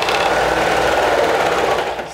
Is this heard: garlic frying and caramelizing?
no